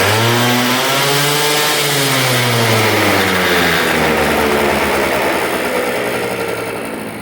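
A Hyosung QT 50cc scooter engine idles up close with a loud, buzzy, chainsaw-like drone. Its pitch sags slightly early on, then it settles into a steady run and fades a little toward the end.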